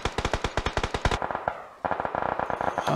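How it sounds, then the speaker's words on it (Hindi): Rapid automatic gunfire from a BGMI (PUBG Mobile) battle royale match, loud bursts of evenly spaced shots, a brief pause, then another quicker run of shots. "फिलहाल छः नंबर टीम को गन फायर दिखाई सुनाई दे गई है"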